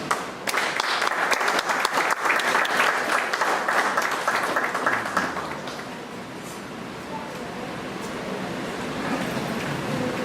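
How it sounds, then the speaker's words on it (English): An audience at an African History Month celebration event breaks into loud, steady applause for about five seconds that then fades into a murmuring crowd and faint talk. "a round of applause for the chairman of the African History Month"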